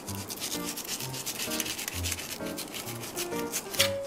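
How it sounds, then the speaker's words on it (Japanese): Knife drawn along a deep-sea fish fillet to strip off the skin, a quiet rasping scrape repeated in short strokes roughly every half second, close and without speech. "では皮を引いていきましょう。"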